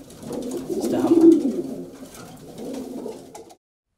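Racing pigeons coo in a loft, a low, throaty rolling murmur that swells and fades in two soft phrases, close by with no talk over it.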